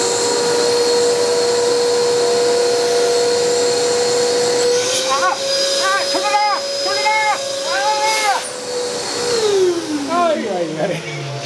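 A vacuum fan hums with strong suction, a loud steady tonal whine that runs throughout, with people talking over it toward the end as the pitch drops away.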